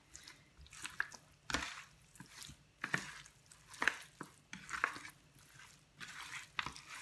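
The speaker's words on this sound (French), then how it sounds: "je viens bien assaisonner, mélanger" Seasoned chicken pieces mixed by hand for homemade KFC-style fried chicken, giving soft wet squishing and slapping sounds in an irregular rhythm, close and fairly quiet, with no talk.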